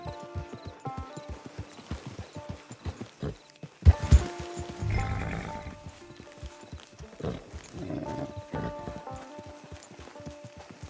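Horse hooves clip-clop in Red Dead Online as a horse is led through a camp, a steady run of close, regular hoof strikes with a few louder knocks and other game sounds in between.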